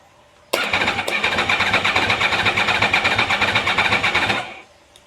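A 2009 Yamaha R1 motorcycle engine cranks steadily for about four seconds with a rapid rhythmic chugging, close and loud, then stops without firing.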